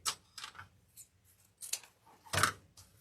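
Scissors snip through deco mesh while a Valentine's Day evergreen wreath is trimmed, several crisp separate cuts spread unevenly over a few seconds, close and fairly loud, with no talk.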